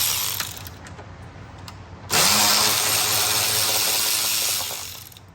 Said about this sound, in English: Remove this 13mm bolt out.